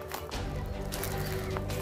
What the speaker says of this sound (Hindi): पक्षियों की चहचहाट आप सुन सकते हैं।